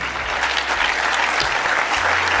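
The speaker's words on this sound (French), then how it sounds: "Ah là, vous applaudissez." Dense, sustained applause from a large audience at a French political talk event, steady and loud throughout with no individual claps standing out.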